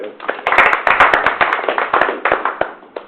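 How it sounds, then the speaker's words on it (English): A council meeting room breaks into a round of applause, many hands clapping loudly and irregularly for about three seconds before tapering off. "I think she deserves a round of applause"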